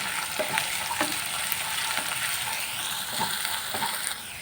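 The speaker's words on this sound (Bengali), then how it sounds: "হালকা হালকা করে নাড়াচাড়া করে একটু ভেজে নিতে হবে" Potato pieces fry with ground coriander in hot oil and hiss steadily as a utensil stirs them, scraping and clinking against the pan at a close, even level.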